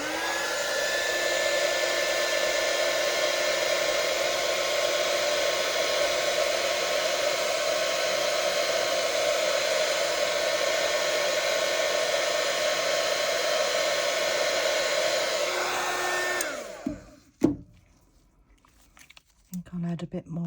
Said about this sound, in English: Got my heat gun here, so excuse the noise.